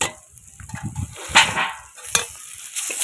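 Potatoes coated in turmeric and chili powder are stirred and sautéed together in a pan, with scraping spatula strokes and a gentle sizzle rising and falling close by, no talking.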